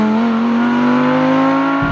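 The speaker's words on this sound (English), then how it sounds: "that was some of the sharpest acceleration I've ever felt" A 2017 Audi R8 V10 Plus accelerates hard. Its engine gives a loud, close, continuous roar that climbs steadily in pitch for about two seconds and then cuts off abruptly.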